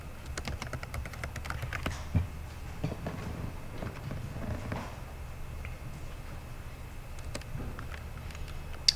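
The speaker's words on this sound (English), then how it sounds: "type in your first and last name" A name is typed on a computer keyboard in a fast, steady stream of close key clicks with a few louder taps, no talking.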